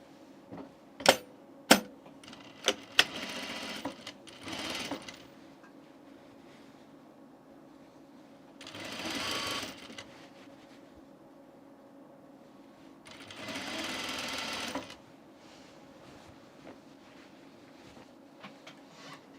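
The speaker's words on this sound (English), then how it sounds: "So I'm going to sew it from the top side." A sewing machine stitches a seam on a men's button-up shirt, running in a few bursts of whirring between quiet stretches, with sharp clicks near the start; close and moderately loud, no talk.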